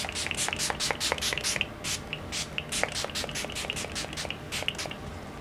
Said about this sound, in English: all I have to do now is add some setting spray, and I'm going to be using the LA Girls setting spray